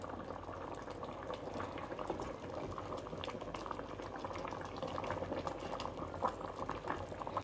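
Pearl barley soup with chicken boils in a pot, a continuous soft bubbling and simmering that stays steady and fairly quiet throughout with no voices.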